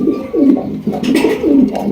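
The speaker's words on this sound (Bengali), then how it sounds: "রয়েছে একজোড়া কিং কবুতর ব্ল্যাক কিং দেখতে পাচ্ছেন" A pair of black King pigeons give deep, rolling coos close by, repeating in a steady rhythm of about three bursts over two seconds, with no talking.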